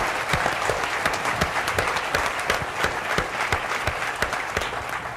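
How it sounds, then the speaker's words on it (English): An audience at a town hall Q&A applauds police officers and emergency responders, steady dense clapping from a crowd, moderately loud and continuous with no talk over it. "we should give a round of applause to all the police officers and emergency responders"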